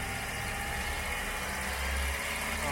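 Steady engine hum from a Volkswagen Gol held at around 2000 RPM in a garage, a constant close drone with no voices.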